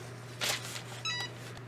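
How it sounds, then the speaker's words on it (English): A Cricut EasyPress heat press, used on leather for a notebook project, gives two short electronic beeps about half a second apart. The beeps are fairly quiet over a low, steady background hum. "When it beeps, remove the Easy Press."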